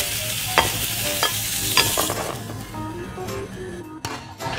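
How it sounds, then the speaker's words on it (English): Prawns and sliced ginger stir-fried in a hot wok, with a loud continuous sizzle and repeated scraping strokes of the spatula, close up with no talking. "Then add in the prawn and then stir fry for 1 minute until it's about"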